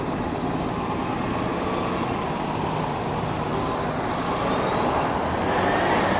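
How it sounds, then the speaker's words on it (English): Road traffic on a Toronto street in the Port Lands area, a steady broadband roar of passing vehicles at moderate distance, swelling slightly toward the end, with no talking. "A little bit of traffic to contend with."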